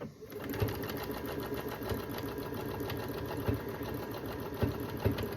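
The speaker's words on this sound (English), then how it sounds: "I'm gonna keep quilting this because I also have another one to go." A sewing machine quilts fuzzy Dollar Tree fabric, its motor humming steadily up close while the needle thumps in a fast, even rhythm throughout.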